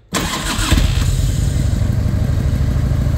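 A 1993 Harley-Davidson Electra Glide Ultra Classic with a 1340 Evo engine cranks and catches, settling into a loud, steady, close-up idle rumble with no talking.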